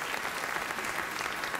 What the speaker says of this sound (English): And with that spontaneous round of applause, I could have actually stopped the entire act right there.